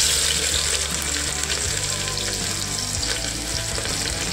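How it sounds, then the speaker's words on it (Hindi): Onions frying in hot oil for chicken curry, a loud dense hiss and crackle that holds steady throughout, with a low hum beneath and faint stirring, near and without speech. "प्याज भुनने रखा था"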